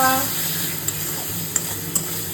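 Mutton spices fry in hot oil in a wok, giving a soft continuous sizzle broken by a few light stirring scrapes and clinks close by.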